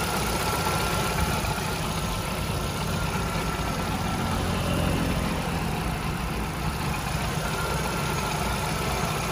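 Engine of a 2010 Hyundai Getz with a 1.1-litre four-cylinder, idling steadily, a close, even mechanical hum with a faint ticking texture, unchanged for the whole stretch with no voices.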